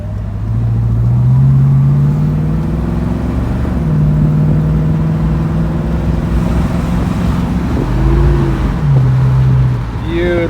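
A 1965 Ford Mustang convertible with the top down accelerating on the road to pass another car, its engine note climbing and shifting through several rising pulls, loud and close with some talking over it.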